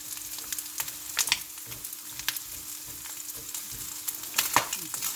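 Pakbet vegetables with onion fry in a pan, a low, moderate sizzle punctuated by irregular clacks and scrapes as a utensil stirs them, fairly close and without talk.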